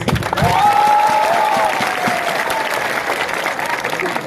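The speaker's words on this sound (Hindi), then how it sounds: "तो सब बुरुई बोतल के लिए एक ताली मारो तो प्लीज" Crowd applause at a political rally, a loud sustained wash of clapping and some cheering with a whistle-like tone early on, continuing steadily to the end.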